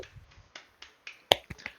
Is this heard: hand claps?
yes